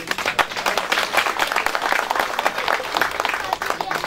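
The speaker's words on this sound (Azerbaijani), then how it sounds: "Xahiş edirəm onları alqışlayın." Dense, steady applause from a crowd at a Victory Day gathering in Mingachevir honouring local patriots seated at a table, loud and continuous throughout without a break.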